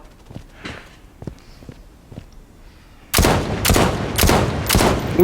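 An SVD sniper rifle fires in the video game Blood Strike. Soft footsteps come first, then about four loud, booming shots in quick succession.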